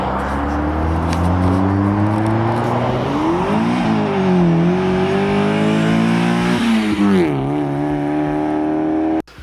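Mazda Miata engine revving hard and loud throughout, its pitch climbing, dipping and rising again in steady waves before cutting off abruptly at the end, with no talk over it.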